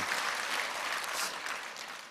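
Crowd applause in a lecture hall during a business success talk, a dense, even patter of many hands clapping, fairly faint and continuous.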